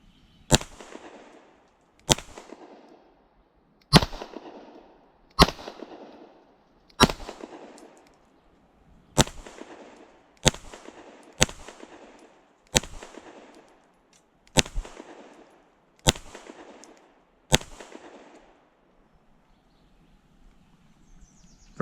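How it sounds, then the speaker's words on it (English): A Fusion Firearms XF Pro striker-fired pistol fires its first magazine, with about a dozen loud, sharp shots at fairly even intervals of one to two seconds and no talking. "First rounds, first mag, XF Pro, ran flawlessly."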